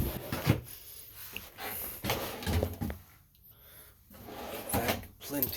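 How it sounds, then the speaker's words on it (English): Big pull-out storage drawers beneath a bunk in the rear bunk room of a 2023 Jayco Jay Flight 331BTS travel trailer, sliding and thumping shut several times at close range while someone talks over them. "Big pull-out drawers underneath."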